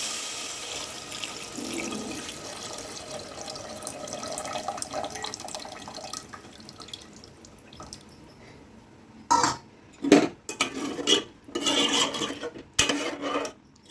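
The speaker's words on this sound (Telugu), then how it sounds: "ఇప్పుడైతే మనం ఇందులో ముందుగా తీసి పెట్టుకున్న చింతపండు పులుసు అనమాట, నానబెట్టి తీసి పెట్టుకున్న చింతపండు పులుసు" Soaked tamarind water poured into a pan of egg curry, first a soft steady trickle and then louder splashy pours in short bursts.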